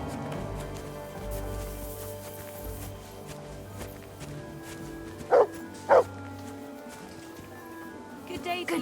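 A dog in the Kingdom Come: Deliverance II video game gives two short, loud barks in close succession over a steady background of game ambience and music.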